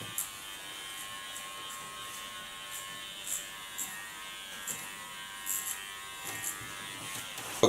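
Electric hair clipper buzzes steadily while cutting hair at 4 millimeters on the back of the head, close and fairly quiet, with small rhythmic bursts as the blade moves through the hair; no talking.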